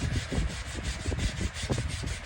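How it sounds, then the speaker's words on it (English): Steady, rhythmic hand sanding of a steel knife blade, a rasping back-and-forth scrub repeating in quick strokes, close and continuous with no talking. "hand sanding is considered the most tedious thing that bladesmiths do"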